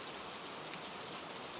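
Steady rain pours down in a dense, even hiss with no breaks, a soft continuous wash close by and alone.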